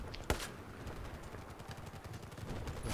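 Gunfire in Battlefield 4 on the Golmud Railway map, with one sharp loud shot near the start followed by a dense, rumbling wash of distant battle noise.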